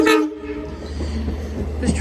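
A Port Jefferson branch passenger train passes close by, its horn sounding loud at the start over a continuous low rumble of rolling cars, with another horn note rising near the end.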